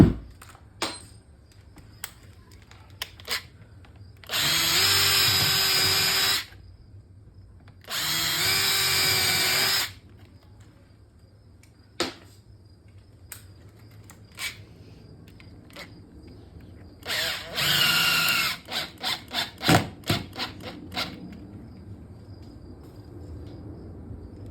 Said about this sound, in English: I'm gonna pre-drill first.